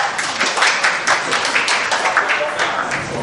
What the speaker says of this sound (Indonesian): kita berikan tepuk tangan untuk Bapak Gede Sumarjaya Lenggi.